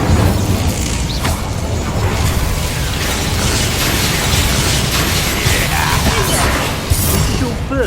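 A fire spell blasts during combat in the video game Hogwarts Legacy, a loud, dense roaring whoosh with sharp bursts and mechanical clanks mixed in, sustained for several seconds.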